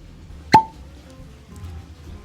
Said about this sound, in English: People over at Buffalo Trace know how to do a cork pop.